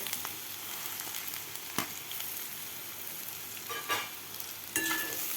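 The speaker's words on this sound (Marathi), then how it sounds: "आता यामध्ये घालायचे तर आपल्याला कापून घेतलेले बटाटे" Cut potatoes tossed with sautéed onion in a pan for dry potato bhaji, a soft steady sizzle broken by a few louder scrapes and clanks of the spatula stirring.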